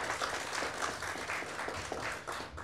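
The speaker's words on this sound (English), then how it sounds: "Let's have a round of applause for Steve, please" Applause at a county government employee recognition awards ceremony, a steady wash of many hands clapping indoors for the full few seconds, fairly close and even in loudness.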